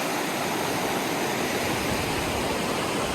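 Steady, full-band roar of a waterfall on a snowy travel outing, loud and continuous with no break across the whole stretch, a dense hiss filling everything from deep rumble to bright spray.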